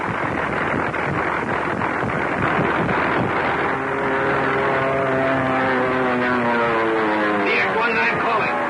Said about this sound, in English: Plane out of control. We're falling. The motor is dead.